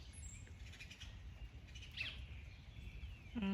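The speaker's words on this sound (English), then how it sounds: "Those birds are down there fussing." Faint bird chirps and a brief call drift over steady low background noise, with a sharper tweet near the end.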